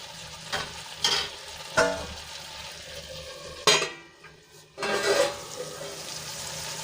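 Finely chopped radish greens cooking in a pan, with a soft steady sizzle broken by several sharp scrapes and clinks of a spoon stirring against the pan.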